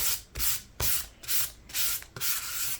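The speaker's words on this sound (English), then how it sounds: "scuff sanding" Scuff sanding cured epoxy on a fretless Warwick bass neck with 600 grit sandpaper: five or six close, rhythmic hand strokes of bright abrasive rasping, each lasting about a third of a second, with short quiet gaps between them.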